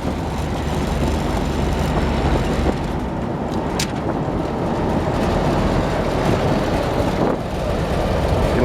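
A 1978 Jeep CJ-5 cruising along on quiet tires, its steady engine and road rumble droning continuously and fairly loud throughout, with no talking.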